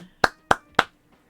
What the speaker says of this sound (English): Round of applause to Mr. Traveler.